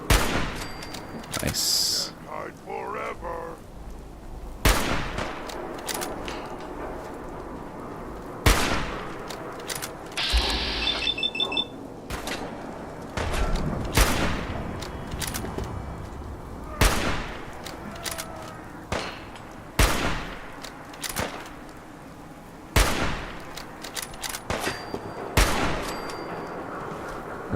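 Gunfire aimed at a super mutant in Fallout 4: loud single shots crack out every few seconds across the stretch, some in quick doubled bursts, with a brief spoken remark among them.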